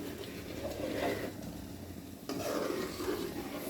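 A spoon stirs chickpea curry in a pan after garam masala is added, a steady close scraping and soft sizzling texture with a brief break midway, no voices.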